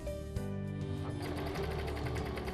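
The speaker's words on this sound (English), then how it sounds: "Slide the fabric under the foot and serge." A Brother 1034D serger stitches through fabric with a steady, fast mechanical hum and needle chatter that starts abruptly and runs loud and continuous to the end.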